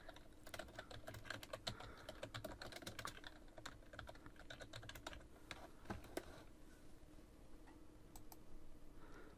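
Fingers tap steadily on a computer keyboard in a quiet room, a rapid run of light clicks with brief pauses between bursts.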